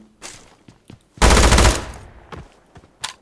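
A rapid-fire automatic weapon in a mobile battle royale shooter game lets off one loud burst of several quick shots, with scattered footsteps and small clicks before and after.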